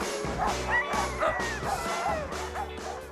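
Sled dogs in Lapland bark repeatedly in a lively, overlapping chorus, with sharp yips and whimpers mixed in, close and fairly loud.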